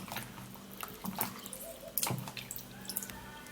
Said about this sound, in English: we're going to be washing it,